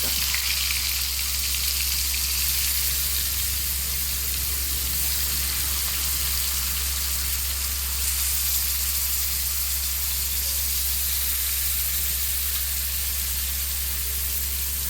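Loud, steady sizzling as curry leaves fry in a hot pan for avoli fish curry, a constant crackling hiss with a low hum beneath it, no voices.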